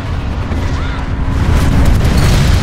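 Several grenades detonating in a Planetside 2 battle, loud overlapping booms that merge into a continuous heavy rumble and grow stronger toward the end, with no clear talk over them.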